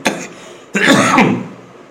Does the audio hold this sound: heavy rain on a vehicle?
no